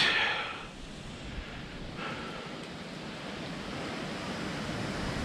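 Wind picks up beside a creek in the hills, a steady rushing roar with a brief gust at the start. The wind buffets the microphone and no voices are heard.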